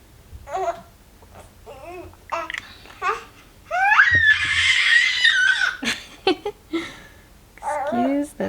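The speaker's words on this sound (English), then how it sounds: "Excuse the baby squawks in the background." A baby squawks, babbles and giggles in the background of an indoor resin and alcohol ink crafting session, with short bursts coming and going throughout.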